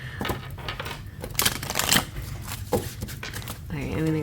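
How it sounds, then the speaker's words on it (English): Fortune-reading cards from a Chinese set are shuffled in several riffling bursts, close and fairly loud, with a person talking over them and a brief rising whine near the end. "I'm gonna shuffle"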